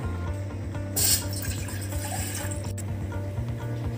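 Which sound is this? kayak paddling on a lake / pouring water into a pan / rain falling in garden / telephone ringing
pouring water into a pan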